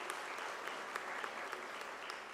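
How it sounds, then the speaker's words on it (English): A crowd at a World Day for Safety and Health at Work gathering claps for themselves in a steady, even wash of applause, fairly faint and distant, with a few sharper claps poking through. "Can you give yourselves a round of applause?"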